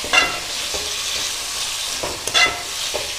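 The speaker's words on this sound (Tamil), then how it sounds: "இது ஒரு 2 நிமிஷம் நல்லா இப்படியே வதக்கிக்கலாங்க" Potatoes sauté in hot oil with garlic, green chili and curry leaves: a steady, close sizzle and frying hiss, broken by a few scraping stirs of the spoon, with no talking.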